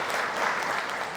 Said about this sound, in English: Let's give Ranbir a big round of applause once again